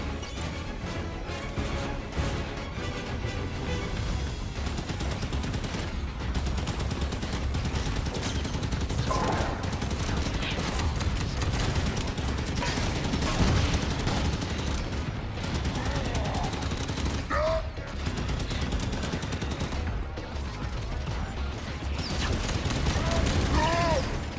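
Continuous rapid gunfire and explosions from Halo 5: Guardians combat on the Sanghelios mission, dense bursts of shots running throughout with in-game voices talking over the fighting.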